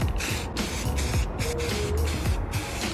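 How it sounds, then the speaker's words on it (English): Steady hissing spray from a Rust-Oleum satin black aerosol paint can, running continuously with slight pulses, close by and fairly loud. "I'm gonna go ahead and spray it,"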